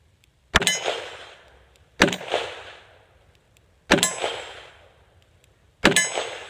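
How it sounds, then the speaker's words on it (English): A Ruger Service Six revolver firing .357 Magnum outdoors on a freezing day: four loud, sharp shots spaced about one and a half seconds apart, each followed by a ringing echo that fades before the next. "Going to do a little shooting of the old Service 6"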